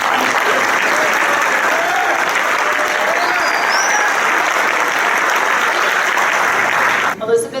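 An awards ceremony audience gives sustained, even applause for a firefighter, a broad wash of clapping from a large crowd in a hall that holds steady before a brief shift at the end.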